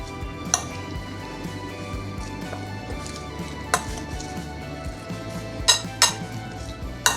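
Tempered kosambari ingredients are mixed in a bowl, giving scattered clinks and taps of a spoon against the bowl over a soft low rustle, close and fairly quiet, with a few sharper knocks near the end.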